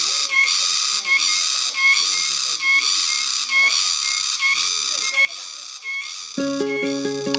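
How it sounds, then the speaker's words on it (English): Loud, harsh cicada buzzing in rhythmic pulsing waves, a dense hissing drone that swells and dips about once a second, then thins out as a brief tonal electronic pattern comes in at the end. "This is the sound of the cicada."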